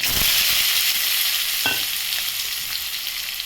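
Onions and seeds sizzling in hot oil in a pan, a steady loud hiss of frying close by with a brief stir or scrape partway through, no talking.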